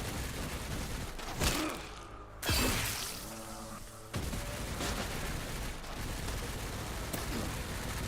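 Enemy gunfire in Resident Evil Requiem on insanity difficulty, a few sharp shots ringing out at intervals over a tense ambient game soundscape, moderately loud and spaced apart.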